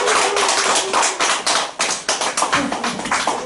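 A small group clapping at a graduation and certificate ceremony, dense irregular hand claps close by, continuing steadily for a few seconds with no talking.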